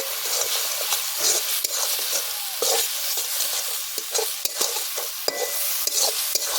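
Spices for chicken masala rice fry in a pan at a rural home, with a loud continuous sizzle broken by repeated scraping stirs close up.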